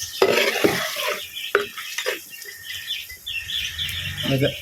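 Beef bone masala seasoned with black pepper is stirred and roasted in a pan, with uneven bursts of scraping and clinking over a soft sizzle, the spoon strokes coming irregularly and close.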